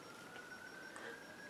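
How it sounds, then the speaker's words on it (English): Emergency vehicle sirens wail faintly in the distance, a thin steady tone held throughout the short stretch with no talk over it. "I'm sorry for the sirens in the background"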